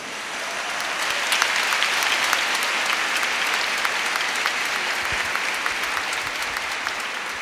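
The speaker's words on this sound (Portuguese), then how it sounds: "Pode aplaudir a palavra." A Catholic church audience applauds after a scripture reading, a sustained, full burst of many hands clapping that holds steady throughout, with no speech over it.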